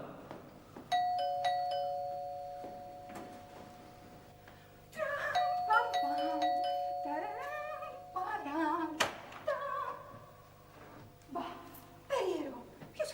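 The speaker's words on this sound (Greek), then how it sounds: "Ποιος χτύπησε το κουδούνι?" A ding-dong doorbell chimes twice in a Greek comedy sketch, ringing tones sustained under people talking and exclaiming nearby, with voices continuing after the chimes fade.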